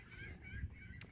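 Birds honking outdoors, goose-like fowl calls repeating faintly at a distance over steady low background rumble.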